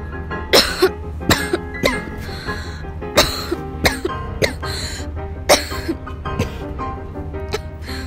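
A series of sharp, dry human coughs, about a dozen bursts spaced irregularly with short pauses, close and fairly loud, alone without talk.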